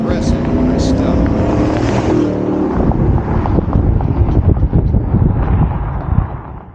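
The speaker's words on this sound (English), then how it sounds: "The Mustang now has an additional metallic growl. The exhaust is a little bit louder, but not too loud." A Ford Mustang with aftermarket headers rumbles loudly with a deep, metallic exhaust growl, steady throughout with slight revving swells near the end.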